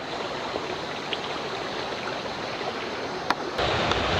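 Creek water rushes over shallow shoals in a gold-mining stretch, a steady close wash of flowing water with a slight swell near the end and no talking.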